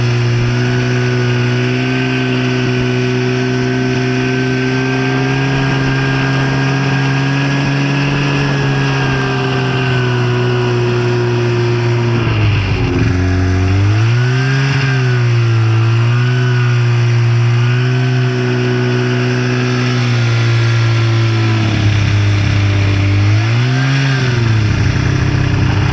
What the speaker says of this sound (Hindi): इस वक्त स्नो बाइक का मजा ले रहा है।